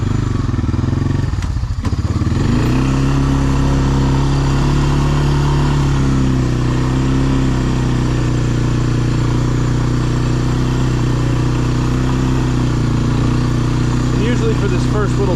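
A Honda ATV pushes snow with a plow, its engine droning loud and close with a brief lurch early on, then a steady labouring hum that holds throughout.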